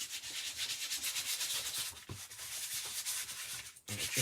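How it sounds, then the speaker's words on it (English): Steady, continuous rasp of sanding the edges of paper, close and fairly loud, with brief pauses and a short break near the end. "And it just sands off all of the little creases that you might have."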